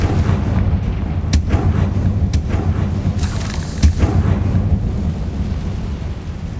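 Fire-spell explosions in the video game Hogwarts Legacy, a steady rumbling battle bed broken by several sharp, booming blasts at irregular intervals, loud and close with no talking.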